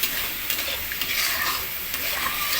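Six small pieces of hilsa fish sautéing in a pan, a steady sizzle with frequent stirring scrapes and spatula knocks close up, no voices present.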